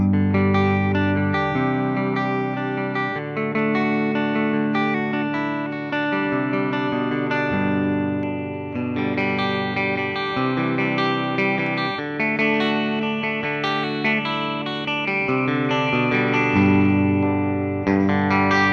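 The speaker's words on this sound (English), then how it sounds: "plug it in, and hear how it sounds with the Dirty Fingers pickups" Electric guitar, a 2024 Gibson 60s Les Paul with a modified hog top and Dirty Fingers pickups, played alone for nearly twenty seconds with loud, steady sustained distorted chords and shifting riffs, thick and saturated with some effects sheen.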